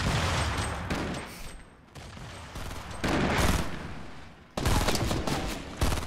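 Loud bursts of gunfire in the video game Fortnite, with rapid automatic volleys and heavy shots coming in several clusters, broken by short lulls.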